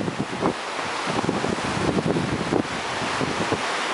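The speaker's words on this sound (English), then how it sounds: "this, yeah, is the Kootenai River in Montana" The Kootenai River in Montana flows in a broad watery rush under gusting wind that buffets the microphone in uneven bursts, loud and close, with no voices.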